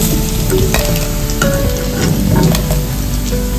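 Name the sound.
paneer frying in hot oil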